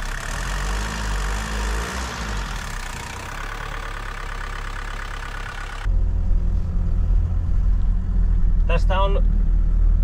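A 1973 Mercedes-Benz 220D W115 taxi with a 60 hp diesel engine idles steadily, its low clattering rumble close and continuous throughout, growing louder and fuller after a shift midway, with a brief faint chirp near the end.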